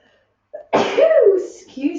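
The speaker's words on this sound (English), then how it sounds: "I need to sneeze." A single sharp sneeze from a yoga instructor bursts out close and loud after a brief quiet breath, trailing into a voiced tail.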